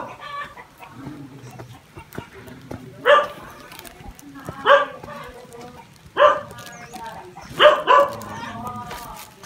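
Dogs bark in several loud, close bursts with rooster-like calls mixed in, in a rural Nùng village in Lạng Sơn, while a person talks underneath throughout.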